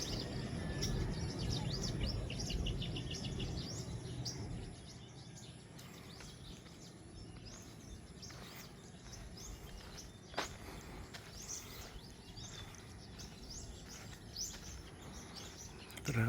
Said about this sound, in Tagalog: Pero maraming ibon kumakanta dito guys.